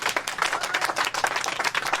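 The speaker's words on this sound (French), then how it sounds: "applaudissez un peu pour mon corps" A theatre audience claps briskly and evenly for two seconds, a dense patter of many hands with no voices over it.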